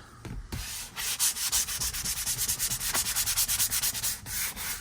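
Worn leather on a Ferrari 360 Modena seat is hand-sanded before dyeing, giving a close, steady run of quick back-and-forth abrasive strokes after a brief knock at the start.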